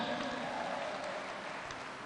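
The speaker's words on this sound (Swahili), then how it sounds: "wapi makofi yake?" Steady applause from a church congregation at a live Anglican worship gathering, a soft, even wash of clapping heard from a distance throughout, with no voices standing out.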